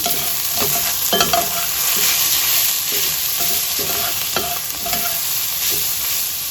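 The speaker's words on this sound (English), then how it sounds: "So I'm going to add in the salt, pepper, and Italian seasoning. Mix it up a little." Sautéed vegetables seasoned with salt, pepper and Italian seasoning get stirred in a pan, giving a steady close sizzle broken by repeated scraping and stirring clicks, with no talk.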